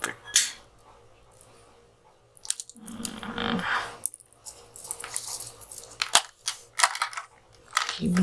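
Packaging around Pebble earphones is torn and unwrapped up close, giving irregular crinkling, crushing and rustling bursts with short quiet gaps between them.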